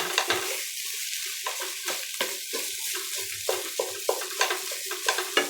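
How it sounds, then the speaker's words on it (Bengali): Grated carrots sizzle steadily in hot ghee for halwa while a utensil stirs and scrapes the pan in quick repeated strokes over the constant frying hiss. "আগে ঘি দিয়ে সুন্দর করে ভাজতে হবে, ওই গাজরের রসটা টাইনে যাবে।"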